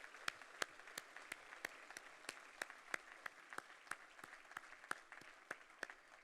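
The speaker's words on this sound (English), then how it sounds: "Can I get a round of applause?" Sparse, quiet clapping at a gala dinner, single distinct claps at a steady rhythm against a faint room hush, as if from only a few hands.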